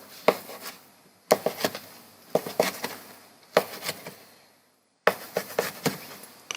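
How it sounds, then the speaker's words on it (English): A knife cuts cooked beef steak into pieces on a board, giving sharp, separate chopping taps in small clusters with brief pauses, near and moderately quiet. "So we cut the steak like nice pieces."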